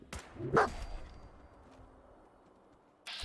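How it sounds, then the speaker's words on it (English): A dog in the video game Fallout 4 gives a short, vicious snarl near the start, followed by quiet game ambience and a brief sharp noise at the end. "Vicious snarl from the dog."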